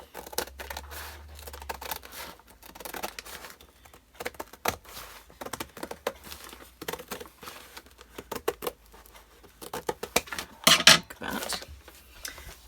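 Scissors slice along a marked line through book page paper, giving a long run of crisp snipping and rustling cuts with brief pauses, close and fairly quiet, with no talking.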